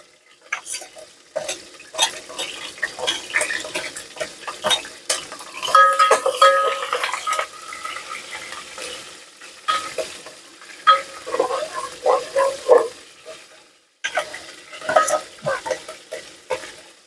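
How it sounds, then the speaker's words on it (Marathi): Green chillies frying in a pan for khichdi cooked inside a vehicle, with irregular spatula scrapes and metallic clinks over a light sizzle, close and busy, with a few short pauses. "पहिला आपण टाकून घेऊया मिरच्या, नंतर टाकून घेऊ कांदा हो का। टाकल्या मिरच्या"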